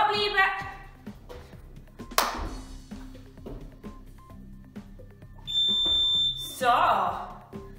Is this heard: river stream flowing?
no